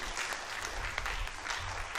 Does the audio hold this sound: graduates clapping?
yes